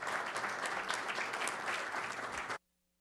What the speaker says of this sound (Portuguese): Uma salva de palmas aos painelistas.